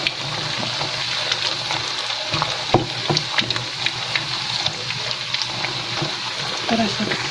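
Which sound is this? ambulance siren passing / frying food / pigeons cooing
frying food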